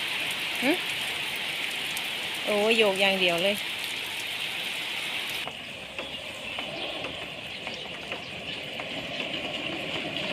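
Heavy rain pours in a steady, dense hiss that fills the whole stretch, with a person speaking briefly over it early on.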